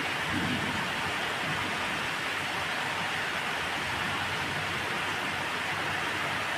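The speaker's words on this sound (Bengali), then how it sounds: "আল্লাহ তাআলার অশেষ রহমতে বৃষ্টি হচ্ছে" Steady, dense rain hisses continuously without pause, a broad even wash of sound with no voices.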